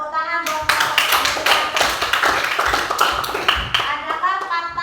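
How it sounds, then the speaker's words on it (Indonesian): Several hands clap together in a lively, steady burst that runs the whole stretch, with children's voices mixed in throughout. "Ya, tepuk tangan buat"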